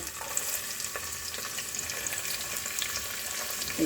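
Finely chopped onions frying in a pan with cloves and cardamom for a winter vegetable dish, a steady close sizzle with light crackling and occasional stirring clinks, no voices.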